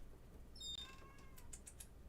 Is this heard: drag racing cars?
no